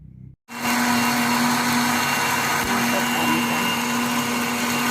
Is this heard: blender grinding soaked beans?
yes